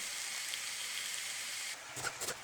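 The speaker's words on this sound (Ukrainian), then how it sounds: "Гливи викладаємо на розігріту пательню з олією. Потрібно їх обсмажити з цибулькою." Oyster mushrooms frying with onion in a preheated pan of oil give a faint, steady sizzle, broken near the end by a few soft clatters of the pan or spatula.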